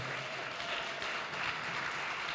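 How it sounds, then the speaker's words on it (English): A crowd applauds steadily, a dense wash of clapping at moderate volume with no voices over it. "Wow, round of applause."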